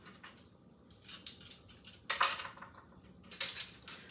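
A spoon stirs quinoa and lentil taco meat seasoned with coriander and smoked paprika in a pan, making a scattered run of close metallic scrapes and clinks in uneven bursts, with no voices.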